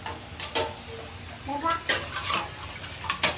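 Coconut milk is poured into a pot for ginataang langka, with splashing and liquid sounds amid clinks of pots and utensils. Loud clattering bursts come and go, and voices are faintly present.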